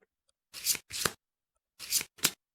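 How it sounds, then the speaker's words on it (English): A deck of cards being shuffled in the Kingdom Death Simulator game, four short crisp riffling bursts arriving in two pairs with quiet gaps, close and clean with no talking. "you would shuffle the deck"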